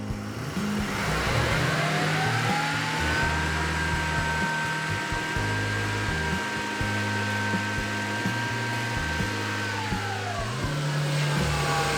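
A car engine is held at raised revs around 2,500 RPM during an alternator ripple test, a steady, loud, close droning hum with slight fluctuations before easing back down near the end.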